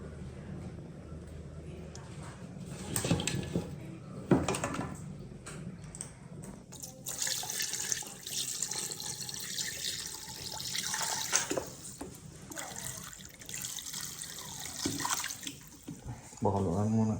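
Pork and chicken simmer in a pot of water for adobo, giving a steady bubbling, liquid wash with a few louder splashes and clatters, close by and moderately loud.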